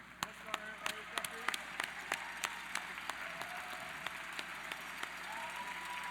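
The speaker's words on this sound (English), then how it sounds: "a round of applause for these folks right here" Scattered hand claps from a crowd at the opening ceremonies of a 2016 robotics regional competition, sounding faint and distant over a steady hall hum.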